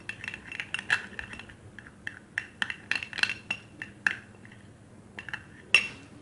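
A spoon clinks and taps against a bowl in quick, irregular strikes while a homemade skin remedy with rose water is stirred. The sounds are close, bright and sharp, with short pauses between bursts.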